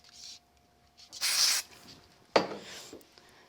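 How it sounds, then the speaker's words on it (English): Spray glue hissing from an aerosol can onto card in a papercraft session, two short bursts separated by a pause, close and fairly quiet, with faint handling rubs around them. "I'm just going to use a little bit of spray glue for speed"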